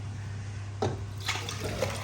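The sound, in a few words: pouring bulalo beef bone marrow broth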